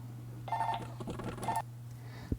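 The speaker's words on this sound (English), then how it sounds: "Another phone call." A telephone rings twice in quick succession, faint and somewhat distant, over a steady low hum.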